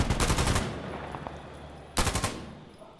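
Automatic rifle fire in Insurgency Sandstorm multiplayer: two rapid bursts of gunfire, the first about half a second long and the second shorter, loud and close with a brief gap of quiet echo between them.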